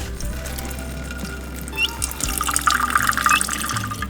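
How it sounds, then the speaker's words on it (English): Water is poured out for baby turkeys in a rural Thai setting, a soft, steady trickle and splash close by with faint background noise. "Here's the water for the little turkeys."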